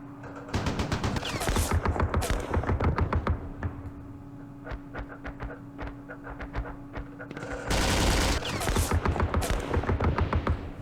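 Bursts of machine gun fire in the Vietnam war game Campaign Series Vietnam, rapid rattling volleys in several clusters separated by brief sparse shots, moderately loud with a faint voice underneath.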